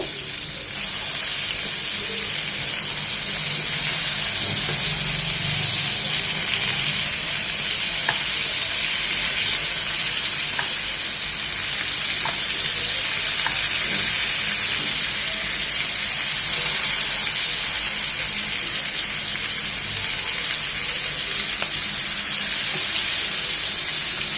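Tandoori prawns frying hard in a pan give a steady, loud, dense sizzle. It runs unbroken throughout, with a few faint clicks and stirring noises underneath.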